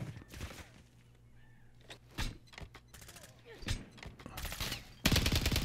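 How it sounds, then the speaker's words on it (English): STG-44 assault rifle fire in a World War II shooter video game sounds as bursts of distant gunshots mixed with nearby mechanical clatter, ending in a loud sustained burst while a voice talks over it. "A little distance shooting."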